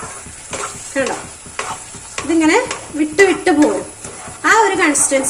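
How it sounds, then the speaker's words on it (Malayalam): A spoon stirs a thick, sizzling halwa mixture in a pan on a gas stove, making loud scraping strokes under steady talking. "ഈ പാനിൽ നിന്ന് ഇങ്ങനെ മിക്സ് ചെയ്യുമ്പോൾ നമ്മളിങ്ങനെ ഇളക്കി എടുക്കുമ്പോൾ അത് വിട്ടുപോരുന്ന ടൈപ്പിലാവണം പാനിൽ നിന്ന്"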